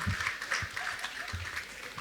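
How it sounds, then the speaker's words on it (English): Banquet guests give a round of applause for honorees returning to their seats, a faint, distant patter of clapping hands spread through a large room. "please, may we give them a round of applause"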